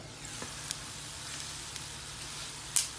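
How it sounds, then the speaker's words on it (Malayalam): Chicken winglets fry in hot oil with a soft, steady sizzle and occasional small pops, ending in a sharper crackle, fairly faint and close. "ഇനി ഇത് നന്നായിട്ട് അപ്പറും ഉപ്പറും ബ്രൗൺ ആവണ സമയത്ത് വറുത്ത് എടുക്കാട്ടുള്ളൂ"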